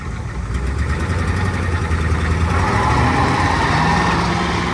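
An engine in a bump-start garage project car catches and settles into a steady idle, a continuous loud rumble with a mid-range drone and faint vibration, heard alone with no talk.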